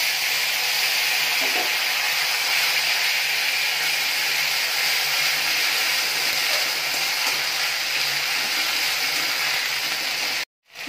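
A paste of ground ginger and fennel seed fries in a hot pan, giving a loud, continuous close-up sizzle that holds steady and then cuts off abruptly near the end.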